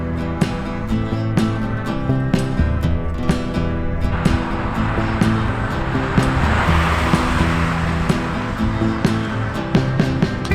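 Car driving along winding roads in sunny Iceland, heard as a steady in-cabin engine and road rumble with repeated ticking and clicking over it, a broadband wash swelling midway, fairly loud and continuous.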